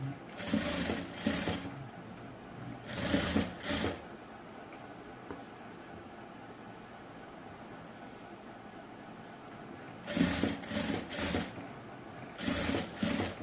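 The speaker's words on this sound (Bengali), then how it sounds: "আমি এভাবে করে একটা সেলাই করে নিচ্ছি।" A sewing machine stitches lace onto a garment neckline in several short rattling bursts, with quiet pauses between runs.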